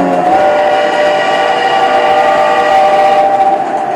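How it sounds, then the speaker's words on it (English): A model logging train rumbles steadily along its track over a bridge with a continuous tonal whine, close and loud, no talking. "now we're on the logging trail, the logging train, coming around on the scratch-built bridge"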